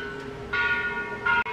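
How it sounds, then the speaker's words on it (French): Church bells ring at a temple, giving sustained metallic tones, with a bright new strike at about half a second and another near the end, close and clear with no talking. "C'est pas moi qui sonne sur les cloches"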